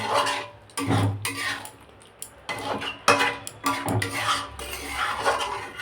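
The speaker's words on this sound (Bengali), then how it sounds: "চলুন দেখি ঢাকনাটা উল্টাই" A metal lid is lifted off a cooking pot, producing several close clanks and scraping clatters in uneven bursts, with brief quiet gaps between them.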